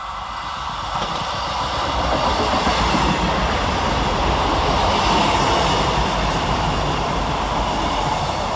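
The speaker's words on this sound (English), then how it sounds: "Coming cruising around the corner is 158788 and 158799, working 1 Tango 7 from Sheffield to Nottingham." Two Class 158 diesel multiple units, 158788 and 158799, on a Sheffield to Nottingham service passing Woodhouse railway station, a swelling rumble of engines and wheels on track that builds and holds loud as they go by.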